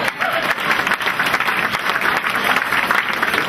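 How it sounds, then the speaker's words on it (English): An audience at a Jefferson Jackson Dinner claps steadily, sustained loud applause filling the room without a break. "Are you going to stand up so they can applaud you?"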